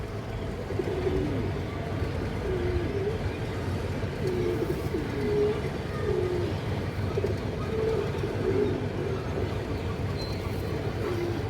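Giribaz pigeons coo in repeated soft, rolling phrases nearby over a steady low hum, with no talk.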